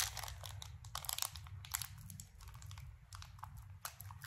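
Plastic earring packaging is torn open with teeth, giving crinkly crackles and short ripping bursts close up, irregular and fairly quiet, with no voices.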